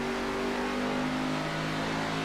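A race car engine in the iRacing sim game holds a high, steady whine at full throttle, loud and continuous with no pauses.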